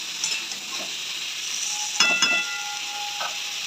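Spices fry with nigella seeds and green chili under a constant sizzle, with a few short stirring scrapes and clinks standing out near the middle.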